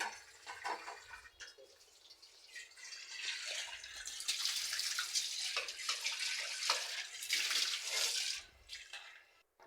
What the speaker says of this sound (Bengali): আমার মা এদিকে এই যে চালটা ধুয়ে নিচ্ছে